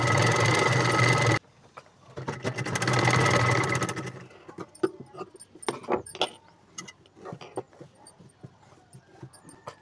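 A sewing machine stitches a belt of cloth onto the back of a boat-neck blouse in a loud continuous whir. It stops abruptly, runs again, then gives way to scattered clicks and handling of fabric and tools.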